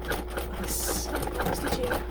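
Domestic sewing machine running steadily through a second line of double stitching, a continuous close mechanical whir with rapid needle rhythm throughout.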